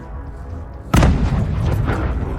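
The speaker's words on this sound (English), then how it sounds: "The Bradley locked onto the target and launched a TOW" A TOW missile fires from a Bradley fighting vehicle during combat in Ukraine, a single sharp, loud launch blast followed by a sustained roaring rush as the missile flies off.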